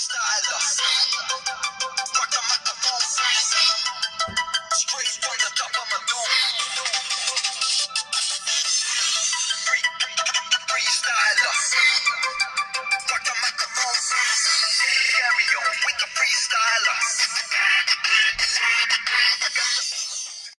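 A ringtone melody plays continuously through the loudspeaker of a Doogee Y8 smartphone, bright and tinny, loud and close, with no voices over it.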